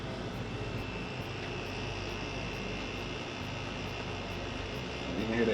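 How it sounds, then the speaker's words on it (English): A PTAC air conditioner's fan blows air steadily during test mode, producing a constant, even broadband whoosh that runs without a break and swells slightly louder at the very end. "You can hear the air running."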